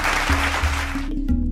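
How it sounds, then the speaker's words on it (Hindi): An audience at a Swachh Bharat rural development programme in Jammu and Kashmir bursts into loud, dense applause over a low electrical hum, then cuts off abruptly after about a second. "जोरदार तालियां बजा दीजिए।"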